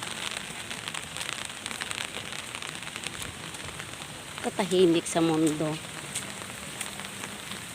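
Steady rain patters on a street during a typhoon, a dense continuous hiss with scattered drops close by, while a voice briefly speaks over it midway.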